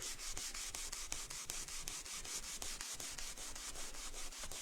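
Painted MDF being sanded by hand to distress the finish, a fast, steady run of short scratchy strokes close up with no voices.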